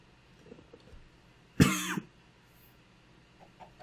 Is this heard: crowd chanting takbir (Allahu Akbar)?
no